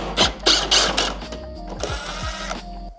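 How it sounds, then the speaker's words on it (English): A ratchet works on bolts under the grille of a Ford, giving close, loud bursts of rapid clicking with brief pauses between the strokes, and no talk over it. "The next thing we're gonna do is take out these two bolts under here"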